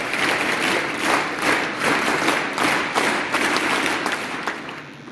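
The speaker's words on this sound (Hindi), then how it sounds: "तो विद्युत सिंह जी चौहान और उनकी टीम के लिए तालियां बजाई जाए।" An audience at a school band competition claps steadily in a dense, continuous round of applause with a few sharper slaps, loud and sustained throughout without speech.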